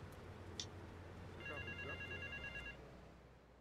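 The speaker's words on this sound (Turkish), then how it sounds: "Bu telefon nerede çalıyor lan?" A telephone in the video game Grand Theft Auto 3 rings in a brief, faint electronic trill over low game ambience while someone talks.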